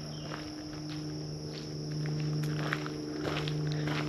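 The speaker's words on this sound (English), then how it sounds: "Listen to crickets and all." Crickets chirp in a steady, faint high drone along a shaded walking path at an Outback wildlife park, with soft footsteps passing underneath and no talking.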